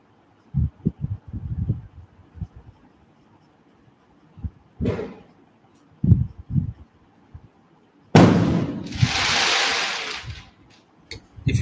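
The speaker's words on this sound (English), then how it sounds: "if you can hear firecrackers going outside" Firecrackers go off outside on a Sunday, heard as scattered dull pops and thumps at a distance, followed by a longer loud crackling burst near the end.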